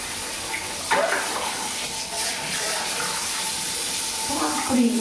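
A kitchen tap pours steadily while fresh river fish are rinsed under it, a soft continuous hiss with small splashes and a faint voice in the background.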